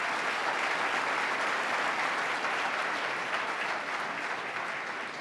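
Sustained applause fills a large hall at a state address, steady and dense throughout, slowly tapering near the end, with no speech over it.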